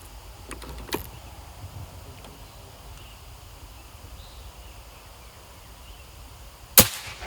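A Bocap RTXX air rifle fires a single sharp, close crack near the end of a long-range shooting session, after a quiet stretch with a few small clicks and handling noises.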